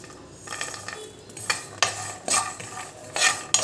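Chapati-dough snacks fry in oil while a utensil knocks and scrapes the pan in sharp, uneven strokes over a low background sizzle, with no talking.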